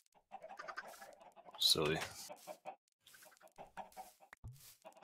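Chickens cluck in Minecraft Bedrock: short, scattered clucks and one brief sharper squawk among several birds, moderately close, mixed with people talking and small game sounds.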